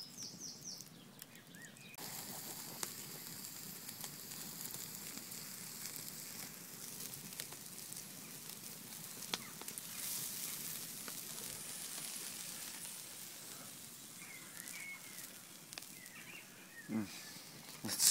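A sausage and wild garlic omelette sizzles steadily in a pan over a campfire outdoors, a soft continuous hiss with faint crackles and a few distant bird calls.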